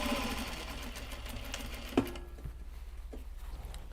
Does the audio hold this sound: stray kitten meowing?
no